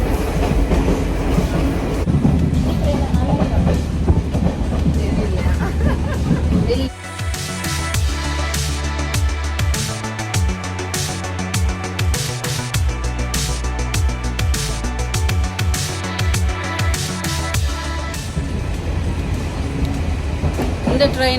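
A train in Sri Lanka rolls along with a steady rumble and rhythmic clickety-clack, loud and close, with voices briefly audible at the start.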